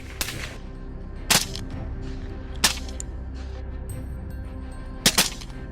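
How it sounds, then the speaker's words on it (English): Sharp gunshots crack out during a wild boar hunt, four separate loud reports spaced a second or more apart over a quiet outdoor background, with no talking. "a series of sharp shots ring out, each one finding its mark as the boars attempt to flee"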